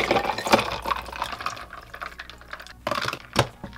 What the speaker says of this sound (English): So I'm gonna add some cold ice water so you guys can see how the confetti cup changes colors